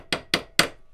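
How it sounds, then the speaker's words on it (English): Hammer striking metal plate to reshape it during small farm fabrication work, three sharp evenly spaced ringing blows in quick succession, close and loud. "you can take your hammer and just easily modify it"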